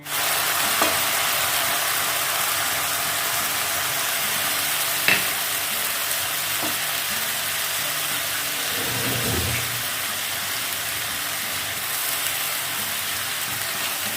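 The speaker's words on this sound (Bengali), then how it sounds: "দিয়ে দেব আদা কাঁচা লঙ্কা পেস্ট" Ginger and green chili paste fries in a pan with a dense, continuous sizzle. It is loud and close throughout, with a few faint clicks of stirring and no voice.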